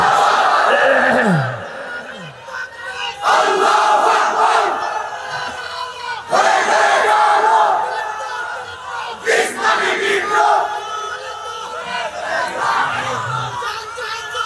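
A large crowd at an Islamic sermon shouting takbir in unison in response, three or four loud collective bursts separated by brief pauses, with a preacher's voice between them.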